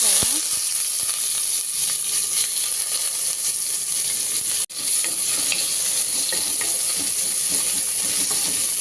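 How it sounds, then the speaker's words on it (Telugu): Fenugreek seeds sizzle steadily in hot oil in a home kitchen, a loud, close, continuous frying hiss with faint stirring scrapes and a brief cut midway, no talk over it. "అలాగే మెంతులు వేసుకుంటున్నాను"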